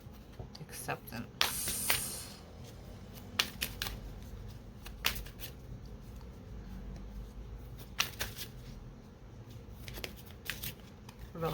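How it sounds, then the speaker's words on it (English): Cards shuffled by hand in short bursts of quick riffling and flicking, close and crisp, with pauses between and a person talking throughout. "Let me shuffle a little"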